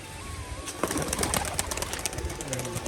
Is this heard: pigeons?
yes